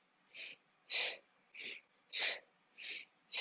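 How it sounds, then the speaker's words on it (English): Forceful rhythmic kriya cleansing breaths during a yoga practice, six sharp nasal exhales evenly spaced about every half second to second, close and breathy with silence between. "a cleansing breath designed to help us purge anything in our respiratory system that is stuck"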